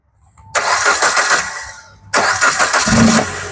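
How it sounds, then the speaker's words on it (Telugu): A 2013 Maruti Swift Dzire VXi petrol car fires up on its self-starter: a loud, close crank catches and settles into an idle, then the engine is cut and restarted with another quick start. "సింగిల్ సెల్ఫ్లో బండి స్టార్ట్ ఉంది సార్."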